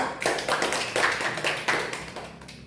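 Classmates clap for group 2 after a classroom presentation, a small group's brisk hand claps coming in a few uneven surges, near and fairly loud before trailing off.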